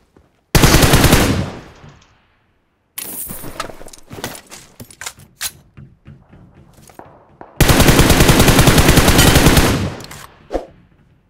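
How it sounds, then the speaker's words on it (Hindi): Sustained bursts of M249 light machine gun fire in PUBG Mobile, two long loud rapid-fire volleys separated by a stretch of scattered single shots and clattering, all close and dominant with no talking. "M249 लेकर घूम रहा हूँ मैं"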